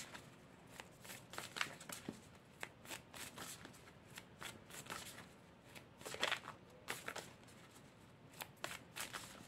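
Tarot cards are shuffled by hand in a steady run of crisp riffling and flicking bursts, close and fairly soft, continuing throughout.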